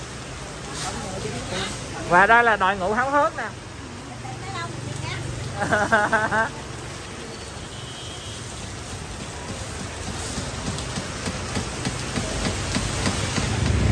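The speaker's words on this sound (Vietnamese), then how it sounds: "mưa tầm tã luôn, cái miệng phải to nó lắng ác cái tiếng mưa luôn quý vị." Heavy pouring rain makes a steady, dense hiss that keeps building, close and loud, while people talk over it.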